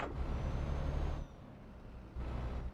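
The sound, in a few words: truck parking air brake in a truck driving video game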